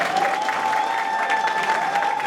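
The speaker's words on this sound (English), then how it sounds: "let's prepare to give a round of applause for TAPP completers for Ms. Sherelle Rogers." Steady, dense applause from an audience at a TAPP program completion celebration, continuous and fairly loud throughout with no break.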